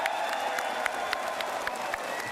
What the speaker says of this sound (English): Obligatory crowd pop.